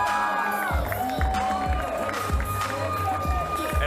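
A wrestling crowd at an indie show cheers and shouts, a lively mass of voices with whoops and rising yells, and thuds and bumps from the ring come through underneath.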